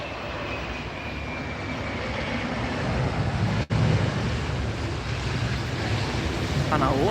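A United Airlines airliner on runway 27R at Heathrow, heard as a steady, loud broadband jet roar sustained throughout, with a brief dropout midway and no talking.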